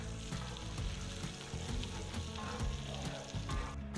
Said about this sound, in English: we're gonna put a good dollop of olive oil, generous amount of butter, and some shallots, which we're gonna stir until translucent